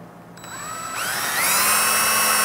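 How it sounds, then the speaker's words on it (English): A power drill whines and spins up, drilling pilot holes in the underside of a wooden tabletop, its pitch rising as it bites in, running steadily for a couple of seconds before stopping abruptly. "All I'm gonna do is pilot drill."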